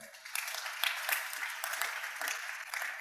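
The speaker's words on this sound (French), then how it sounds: "Acclamons le Seigneur." A church congregation applauds the Lord during a French-language worship service, with steady, fairly soft clapping from many hands throughout.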